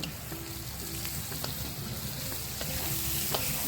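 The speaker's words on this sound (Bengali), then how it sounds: "আলুটা বেশ কিছুক্ষণ ভাজার পর বেগুনের টুকরোগুলো দিয়ে দেব বেশ ভালোভাবে ভেজে নেব" Potato and eggplant pieces sizzle and crackle steadily in hot oil for fish-oil curry, a dense continuous fry with occasional pops and a faint stirring clink, no talk.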